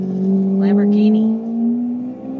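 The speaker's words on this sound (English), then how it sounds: "Lamborghini." A loud Lamborghini sports car engine revs and roars nearby, a deep droning tone rising steadily in pitch, heard from the street while a person talks over it.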